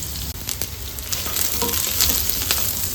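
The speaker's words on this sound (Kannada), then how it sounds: "ನಾನು 8 ಕಾಲನ್ನು ಸೂಪ್ ಮಾಡ್ಕೊಳ್ಳೋದ್ರಿಂದ 2 ಮೀಡಿಯಂ ಸೈಜ್ ಈರುಳ್ಳಿನ ಫ್ರೈ ಮಾಡ್ಕೊಳ್ತಾ ಇದ್ದೀನಿ." Two medium onions frying in oil in a pan for goat leg paya soup, a loud, close, continuous sizzle with crackling bursts, alone without voices.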